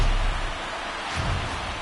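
Steady rain hiss in a baseball video game, a dense broadband wash that stays fairly even and continuous throughout.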